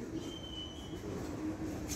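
A train sits at or moves through a platform of the Passy metro station in Paris, with a steady low rumble, a thin whine and faint squeals, heard quietly and with no talking.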